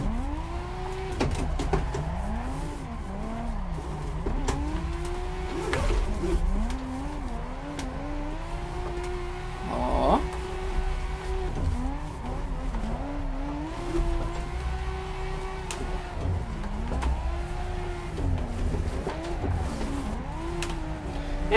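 A Nissan Skyline R34 drifts with handbrake use in a video game set in Balneário Camboriú; the engine revs rise and fall continuously alongside tire squeal, loud and close with no talk.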